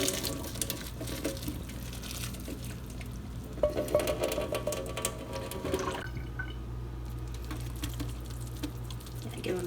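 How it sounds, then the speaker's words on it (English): Boiled ramen noodles tipped from a hot pot into a strainer, water pouring and splashing steadily at close range, a brief trickling burst midway before the flow settles into a lower, continuous drain. "now we gotta drain our noodles"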